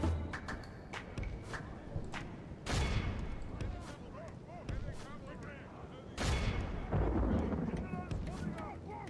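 Troops firing on enemy soldiers in the battle game Medieval 2, heard as repeated loud volleys and bursts over shuffling, marching feet and battle din.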